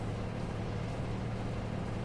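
ZIL truck engine in the trucking game Dalnoboyshchiki 2, climbing uphill at speed with a steady, loud, unbroken low drone and no other sounds.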